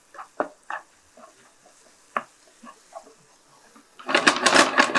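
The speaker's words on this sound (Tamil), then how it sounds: "இந்த முட்டை உடச்ச பிறகு இவரை இப்படி லைட்டாக பேன் டாஸ் பண்ணுறேன்" Egg and radish stir-fry tossed in a pan: light scattered clicks and scrapes, then a louder rattling, sizzling burst of food shaken in the pan near the end.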